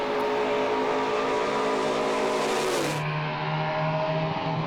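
Holden HQ sedan and a silver mink Monaro race cars roar past at full throttle, a loud engine whine that cuts off abruptly midway, leaving a lower steady drone.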